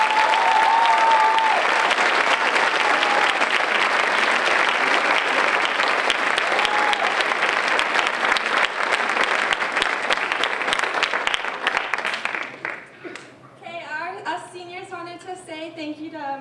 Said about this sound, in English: So if we could just get a round of applause